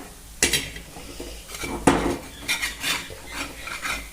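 Fenugreek thalipeeth is flipped on an iron griddle with a spatula, giving several sharp metallic scrapes and clinks against the pan, irregular and close, over a faint sizzle with no talking.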